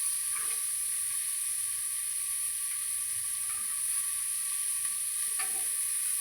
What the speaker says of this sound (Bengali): আমি এর মধ্যেই ভেজে নিই, কুকারের মধ্যেই ভেজে নিই